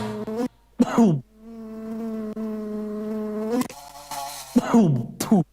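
Flies buzzing close by: loud, whining bursts of buzzing that come and go in several passes with short pauses, one long steady drone in the middle.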